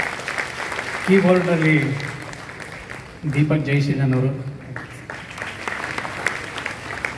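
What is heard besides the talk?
audience applause for the accompanying musicians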